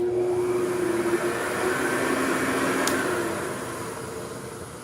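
A Hoover Convertible U4007 upright vacuum with an upgraded brush strip keeps up a steady whine and rushing drone on carpet, then gradually winds down and fades as the motor slows, with the front nozzle wiggling.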